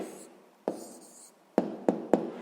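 Pen or pencil scratching on paper during a handwritten math exercise: brief close strokes with several short sharp taps, quiet and without talk.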